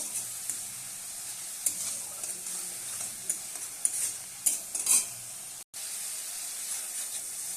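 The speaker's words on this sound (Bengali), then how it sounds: "মশলাটাকে আমি দু মিনিট ধরে ভালো মতো একটু কষিয়ে তো" Masala spice paste being stir-fried in a pan while cooking rayna fish with coriander leaves and bori, a steady sizzle and hiss with scraping stirs throughout, one brief cut near the end, no talking.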